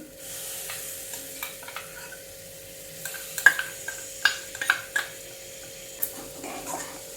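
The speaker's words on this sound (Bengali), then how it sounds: "এবার পুরো মশলাটাকে আমি কষিয়ে নিচ্ছি একটু একটু জল দিয়ে দিয়ে" Spice paste being sautéed in a pan with small splashes of water for an aloo potol curry, a low sizzle under scattered sharp scrapes and clinks of the spoon against the pan.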